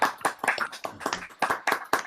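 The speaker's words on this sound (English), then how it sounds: "Give them a round of applause, everybody." Applause for the speakers at an online community gathering comes through as a few pairs of hands clapping in a quick, fairly regular rhythm, close and moderately loud, with no talking.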